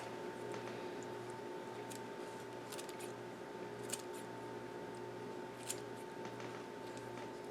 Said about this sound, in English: So I'm going to use the scissors, my kitchen shears.